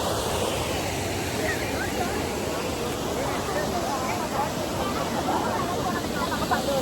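Kuthirapanjan waterfall in Tamil Nadu, water pouring down from the hill in a steady, loud broadband rush that fills the scene, with a voice talking over it.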